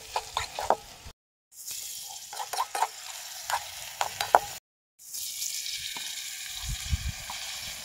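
Tomatoes go into Maggi noodles frying in a pan at an outdoor cooking party in the fields, with sizzling and a series of scraping, clattering stirs, interrupted by brief gaps before a steadier frying hiss.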